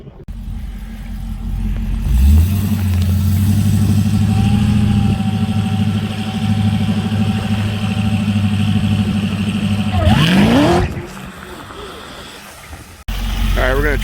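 A drag race car runs during a private test session on the track, its engine rumbling loud and steady for about ten seconds before a sharp rising burst of revving, then a sudden cut and a return of engine noise.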